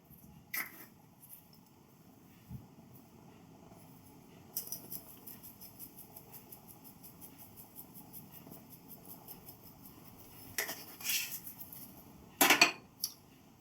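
Chili gets stirred in a pot after a chili seasoning goes in, with a few light spoon scrapes and soft metallic clinks against the pot, quiet and close, plus one sharper rattle near the end.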